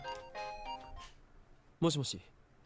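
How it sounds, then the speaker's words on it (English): In the visual novel Steins;Gate, a mobile phone rings out in a short melodic tone burst, then a louder chirping ring follows, with quiet background between. "The door isn't kicked open. Instead, my phone rings."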